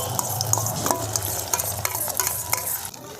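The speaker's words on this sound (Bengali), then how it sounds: "ডিমের ব্যাটারটা যে তৈরি করে রেখেছিলাম, এবার আমি এটা দিয়ে দিচ্ছি তেলের মধ্যে" Egg batter hits hot oil in a pan and sizzles steadily, a dense crackling hiss with small pops and scraping throughout, close and continuous with no talk.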